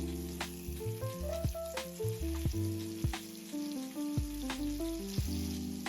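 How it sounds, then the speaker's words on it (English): Beef fillet sears in a pan with butter and garlic, giving a steady sizzle and frying crackle under bright, stepping background music. "Carefully place the beef fillet into the pan and let it sear. Just listen to that sizzle."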